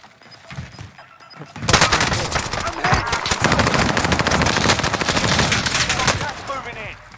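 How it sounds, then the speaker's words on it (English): Heavy gunfire in a military shooter video game, a sustained loud burst of automatic fire and overlapping shots after a quieter start, with voices under the shooting. "I'm under fire."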